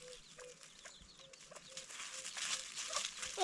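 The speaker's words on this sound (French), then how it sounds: "Voici ma poule. Les 6 poussins sont là." A hen clucks softly and repeatedly near her six chicks, short low calls recurring at a steady rhythm, while faint higher chick peeps and outdoor rustling rise toward the end.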